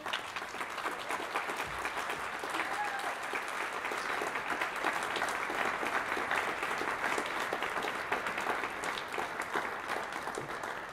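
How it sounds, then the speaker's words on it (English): Concert audience applauding a piano duo at a café performance, steady, even, continuous clapping from a full room, moderately distant and unbroken for about eleven seconds. "if we gave them another round of applause, we might be able to hear an encore this evening"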